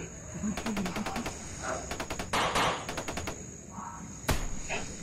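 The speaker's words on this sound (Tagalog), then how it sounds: "Putukan." Bursts of rapid gunfire crackle in short automatic strings, several separate volleys with sharp single shots between, fairly close, with voices briefly heard around them.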